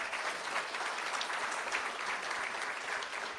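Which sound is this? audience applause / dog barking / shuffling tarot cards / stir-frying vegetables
audience applause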